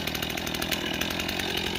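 A newly bought chainsaw runs steadily at high speed, a loud continuous buzzing drone with rough saw noise, close by and alone with no talk.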